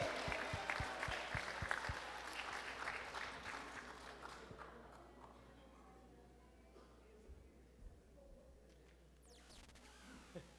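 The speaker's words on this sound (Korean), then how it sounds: "다시 한번 하나님께 영광의 박수 올려드리겠습니다." Korean church congregation at a New Year's Eve service claps for several seconds, the applause loud at first then thinning and fading out, leaving a quiet room with a few scattered sounds.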